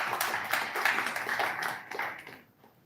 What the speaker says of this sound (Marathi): यासाठी खरंच आपण जोरदार टाळ्या देऊया.